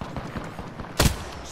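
Gunfire in the Apex Legends video game: a few faint tapping shots lead into one loud, sharp gunshot burst partway through, then quieter game ambience.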